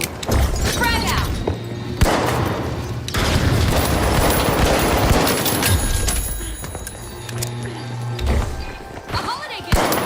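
Explosions and rapid gunfire in the shooter game The Finals, loud dense bursts and heavy thuds filling the whole stretch, with a voice shouting over the combat.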